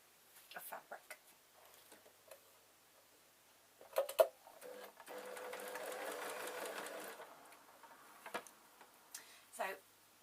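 A sewing machine stitches a fabric circle for a sunhat, with scattered ticking and clicks first, then a steady whirring run of stitching in the middle and more clicks after, brief talk mixed in.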